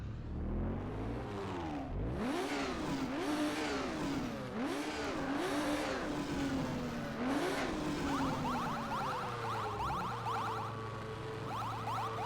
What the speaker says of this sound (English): So that's the noise when you turn off the pit speed limiter